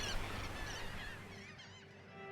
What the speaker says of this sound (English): Birds nesting in Breton Island.